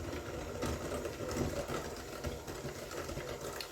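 An electric mixer beats butterscotch bar batter with maple extract, a steady whirring motor hum running without pause.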